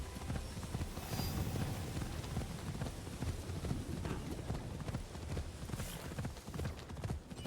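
Steady clip-clop of a horse's hooves trotting in the video game Assassin's Creed Shadows, a continuous rhythmic patter alongside soft rain-like ambience, fairly quiet throughout.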